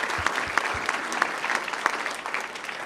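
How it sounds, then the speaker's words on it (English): A room of attendees at a Tinley Park business breakfast gives a round of applause for presenters Mayor Glotz and Terry Savage. The clapping is loud, close and continuous, with a few sharper individual claps standing out. "if I can get one more round of applause for our presenters today"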